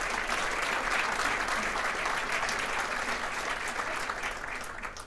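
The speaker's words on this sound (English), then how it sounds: "Give him a big round of applause." Steady, sustained applause from a large crowd, dense clapping that holds at a constant level for several seconds before easing slightly at the end.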